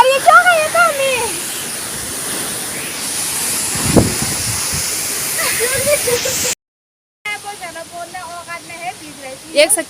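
Water of Ranthi waterfall rushes as a steady broadband roar throughout, with people talking over it nearby; a brief dropout interrupts partway before the rushing and chatter resume.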